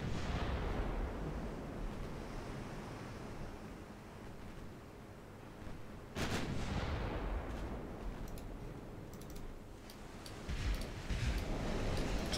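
Heavy naval gun salvos from warships in a naval battle game, deep rumbling booms with broadband blasts, a strong burst around the middle followed by further sharp reports over a constant low roar.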